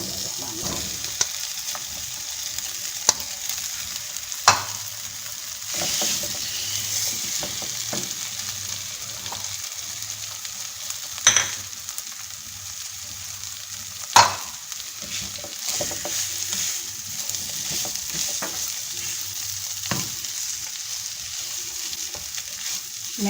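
Potatoes for a samosa filling, seasoned with crushed cumin and black pepper, sizzle in a pan under a constant hiss. Sharp spatula knocks and scrapes break in every few seconds as the pieces are stirred, close by, with no talking.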